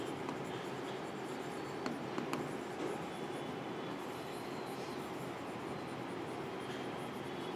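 A pen scratches steadily across paper while notes are written, a close, continuous rustling scrawl with a few faint ticks and no pauses.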